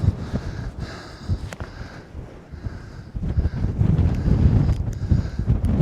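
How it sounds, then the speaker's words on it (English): Strong gusts buffet the microphone outdoors at a scenic stop on a Royal Enfield Meteor 350 ride, a rumbling, low roar that swells and dips, growing heavier in the second half. "but it's too windy"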